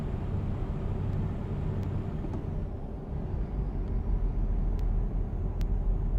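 A truck engine drones steadily in American Truck Simulator, a low, fairly quiet continuous hum with a few faint high clicks over it and no talk.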